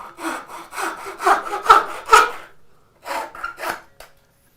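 Hand sawing through a piece of wood while making a bow sander, a run of quick rasping back-and-forth strokes, a short pause, then a few more strokes, close and clear.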